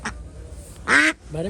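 Ducks quack with a few short, loud, nasal calls spaced apart, close by in an outdoor setting with low background noise.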